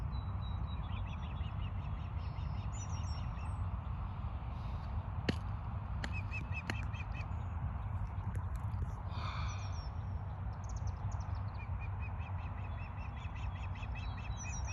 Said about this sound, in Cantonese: 仍然真係聽到雀仔叫聲，